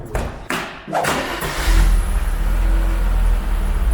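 A Mercedes W124 260E engine runs close by, a few thumps giving way to a steady, deep idle rumble that swells slightly as it revs.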